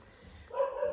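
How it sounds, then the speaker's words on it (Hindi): A dog barks once or twice, a short sharp yelp in the second half after a quieter stretch of faint background murmur, moderately close. "कुत्ते ही भौंक रहे हैं, कुत्ते बोलते हैं"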